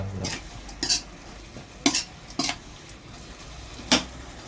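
Holy basil leaves and frog stir-fried in a pan, with a handful of sharp scraping and clanking strokes of a utensil over a low background hiss.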